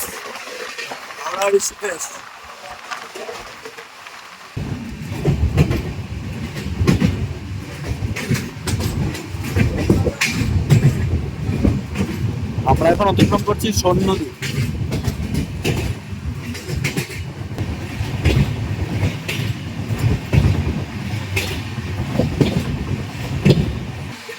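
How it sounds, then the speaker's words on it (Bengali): Heard from on board, the Kanan Express passenger train, number 12815, runs on its rails with a continuous rumble and rhythmic clickety-clack that swells after a quieter opening, while someone talks over it throughout. "train number one two eight one five Kanan express"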